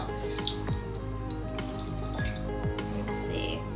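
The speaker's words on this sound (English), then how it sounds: "we're going to add our water" Water poured into a container of melted bar soap for a liquid gel, heard as a busy, close trickle with drips and small splashes over a steady low hum, no voices.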